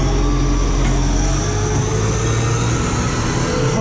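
A loud, steady tractor engine drone with deep low rumble, running continuously close by with no pauses.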